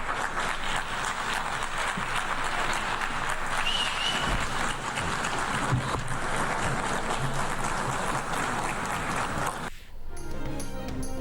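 Applause filling a large hall at the UN General Assembly as Shehbaz Sharif comes to the podium, a continuous roar of clapping for nearly ten seconds before a sudden cut.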